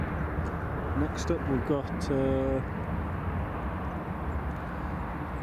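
A Transavia airliner takes off at Newcastle Airport, its broad, steady engine roar filling the scene at constant loudness, with someone speaking briefly over it.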